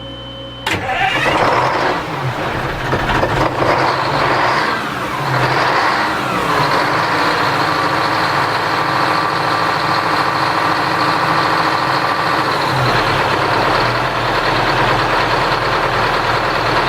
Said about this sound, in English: Stand by again while I run upstairs to start the engine.